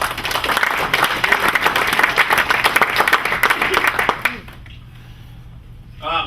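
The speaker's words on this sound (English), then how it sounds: "But a round of applause for." An audience at a college athletics hall of fame induction applauds loudly with dense, sustained clapping that fades out after about four seconds, leaving quiet room tone before a voice starts to speak.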